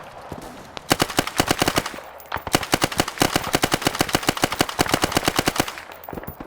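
An MP40 submachine gun in a video game fires long rapid bursts, loud close rattling shots with a short pause between two sustained strings of fire.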